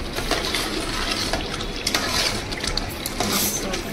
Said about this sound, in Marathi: कोथिंबीर पुदिना टाकून आता मिश्रण करता. ढवळता